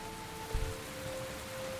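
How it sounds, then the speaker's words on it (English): Rain falls in the video game Heavy Rain as a soft, constant wash of drops, with a faint low thump partway through and a thin steady tone underneath. "It's raining like a motherfucker."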